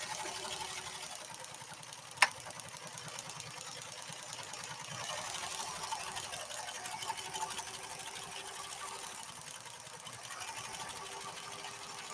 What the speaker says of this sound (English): I'm going to sew this one more time